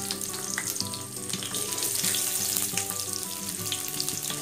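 Dried red chili and seeds fry in hot oil for cashew upma, a close, steady crackling sizzle with faint background hum and occasional small pops.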